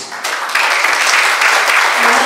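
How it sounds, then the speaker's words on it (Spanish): A church congregation applauding together, steady dense clapping that swells after a brief start and holds loud through the end, with a few voices mixed in. "pido por favor sus aplausos"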